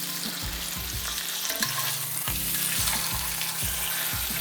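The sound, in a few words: smashed garlic clove sizzling as it fries in a pan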